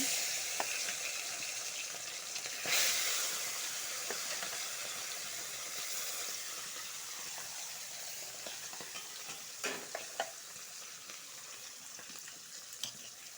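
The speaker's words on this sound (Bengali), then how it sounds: "তেলটা গরম হয়ে গেছে বাটা মাছটা ছেড়ে দেব" Bata fish sliding into hot oil and frying, a soft continuous sizzle and hiss with a brief surge of spitting and a few light pops and clatters along the way.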